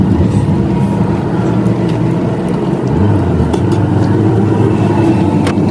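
A car rolls along after its engine starts, a loud, steady low rumble of engine and road noise with a brief dip and shift partway through, plus a few faint clicks and knocks.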